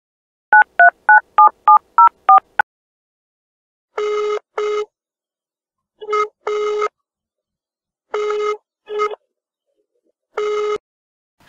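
Telephone keypad tones beep rapidly in a quick run as a number is dialed, then a ringback tone sounds in four evenly spaced double bursts, loud and clear with no other sounds.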